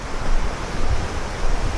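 Rushing water from a waterfall heard from a passing vantage point, a loud continuous broadband roar with some wind buffeting on the microphone and no talking.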